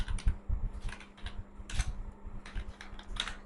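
Computer keyboard typing a user name, with a quick run of light key clicks in uneven bursts, close and fairly quiet, no talking.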